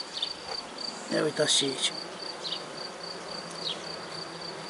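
Honey bees buzz in a queenless hive, a dense close hum with a sustained high tone, while a person says a few words over it.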